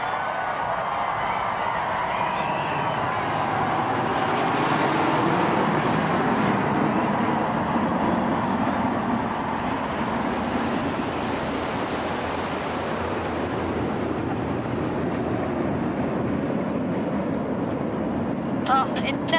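Red Arrows jets pass over a large crowd at the coronation of King Charles III, a steady, broad, rushing roar that swells and fades slightly while holding loud for the whole stretch.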